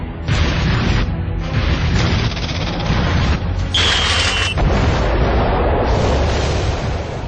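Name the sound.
atomic bomb explosion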